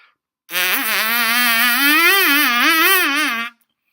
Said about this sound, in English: I can literally pull at my corners while I'm spit buzzing, and it doesn't affect the spit buzz a bit.